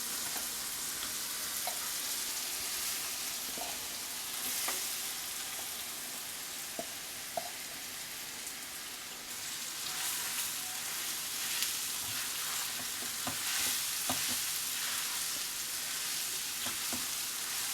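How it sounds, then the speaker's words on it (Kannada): Poha (flattened rice) frying in a pan, a steady close sizzle with occasional soft clicks and scrapes of stirring, no talk. "ಅದೇ ಈಗ ನೋಡಿ ಅವಲಕ್ಕಿ ಹಾಕ್ತೀನಿ."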